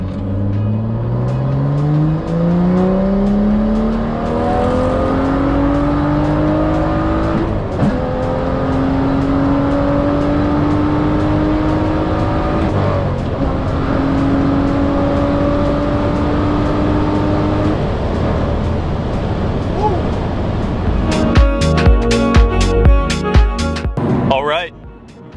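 BMW F87 M2 with a custom flash tune accelerating hard on an empty rural road early in the morning, its engine revving up through the gears in long rising pulls with brief shift breaks, loud and close, ending in a burst of rattly idle.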